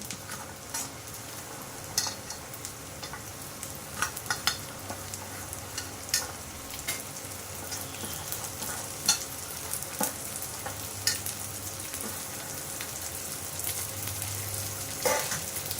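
Snake gourd pieces tossed into a pan of frying onion and garlic, giving a steady sizzle with frequent light stirring scrapes and clinks throughout, close and moderately loud, no talking.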